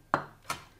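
Two crisp knife chops on a cutting board while finely chopping fresh rosemary, close and fairly quiet, spaced about a third of a second apart.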